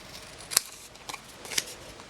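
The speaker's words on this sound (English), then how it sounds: "And I'll go ahead and trim off the extra." Scissors snip through paper while trimming excess from a mini composition book cover, with two or three quick, close cuts separated by short pauses.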